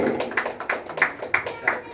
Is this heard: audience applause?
yes